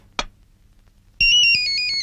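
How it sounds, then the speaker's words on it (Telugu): A mobile phone ringtone plays in a Telugu film scene, a steady electronic melodic ring starting suddenly after a brief knock and continuing loudly to the end. "ఫోన్."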